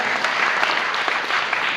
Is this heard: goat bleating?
no